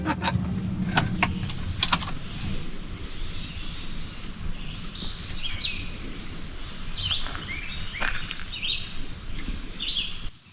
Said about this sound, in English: An Acadia flycatcher.